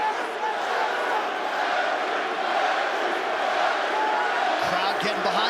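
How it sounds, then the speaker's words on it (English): A UFC 310 arena crowd roars steadily for fighter Henry Cejudo, a broad sustained cheer filling the space while a commentator talks over it. "Crowd getting behind Cejudo here."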